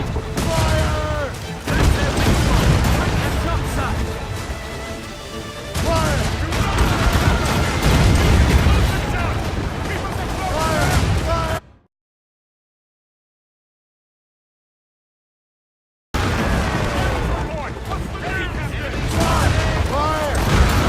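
Naval cannon fire in an Assassin's Creed Rogue sea battle: loud, dense volleys of booming shots and crackling blasts roll on for stretches, break into a few seconds of total silence, then resume, with shouted commands mixed in.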